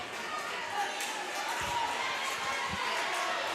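Crowd in the stands at a North Greenville vs. Southern Wesleyan women's volleyball match, a steady murmur of cheering and shouting with a couple of ball thuds, under a commentator's voice.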